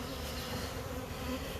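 Honey bees buzz steadily and densely around their hives, a continuous close swarm hum with no voices.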